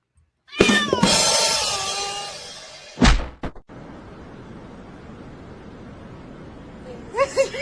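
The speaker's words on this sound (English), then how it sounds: "let's look at some smart cats" Cats meowing in a played video, several drawn-out meows with wavering pitch up front, then a sharp thump or two and a steady hiss, with brief meow-like chirps returning near the end.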